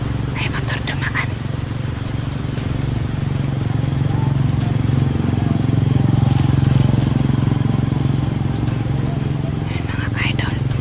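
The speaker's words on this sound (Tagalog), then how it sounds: "May motor dumaan." A motor engine hums steadily throughout, swelling slightly as a motorcycle passes nearby, with faint clicks and rustles in the background.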